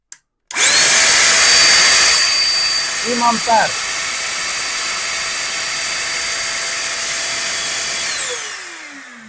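A YOFIDRA 21V cordless vacuum cleaner motor on a Makita battery whines up loud and steady for about eight seconds, then spins down, with a brief spoken word over it.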